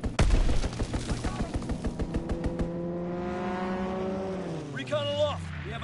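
Rapid bursts of aircraft machine-gun fire from a strafing run in a WW2 video game, loud and close at first, then fading into a droning engine tone with a swooping whine near the end.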